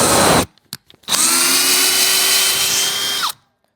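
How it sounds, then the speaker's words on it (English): A power drill driving a lag bolt into a wall whirs loudly in two bursts, a short one, then a brief pause with a few clicks, and a longer sustained run that stops abruptly. "I can just drill it straight in with the drill instead."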